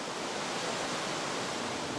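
Clear meltwater pouring down as waterfalls through rock crevices in an Icelandic volcanic rift valley, a steady broadband rushing roar that stays constant and fairly loud with no voices.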